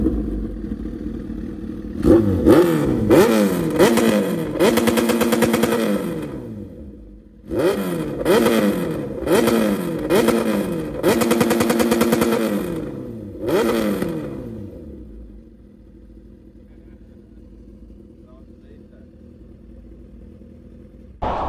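Suzuki motorcycle with an Austin Racing exhaust revs hard nearby in two series of rising, snarling blips, each fading back to idle, then settles into a quiet steady idle.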